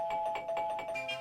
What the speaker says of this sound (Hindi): पहले दरवाजे की घंटी सुनो।